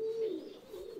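A racing pigeon being trained for tournaments gives a single soft, low coo, close by and alone against quiet background noise.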